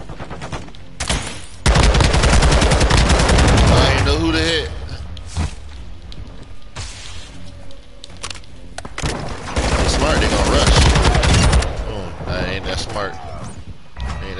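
Dense automatic gunfire rattles in loud, sustained bursts with heavy volleys during a Call of Duty Modern Warfare 2 match, with a voice talking over the shooting.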